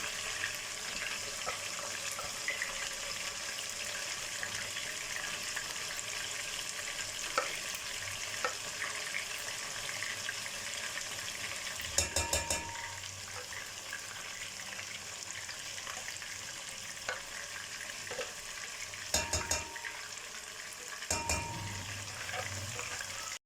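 Masala paste for deghi-style aloo gosht shorba fries in a pot with a constant low sizzle, broken now and then by brief bursts of stirring and scraping against the metal.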